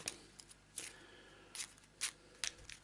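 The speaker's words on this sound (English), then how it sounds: "Crappy shuffle." A deck of board-game cards is shuffled in several quick bursts of riffling and snapping, separated by brief quiet gaps, close and fairly soft.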